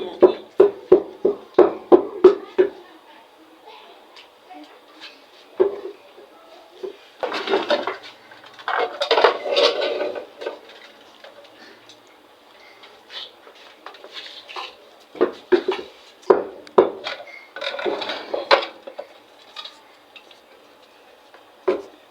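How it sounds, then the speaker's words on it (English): Tomatoes are pounded by hand while cooking in an African village, giving a quick run of sharp rhythmic thumps, then scattered irregular knocks and clatters with pauses between bursts, close and fairly loud. "So pounding my tomato already, as you can see."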